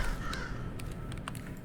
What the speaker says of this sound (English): Go, my crows.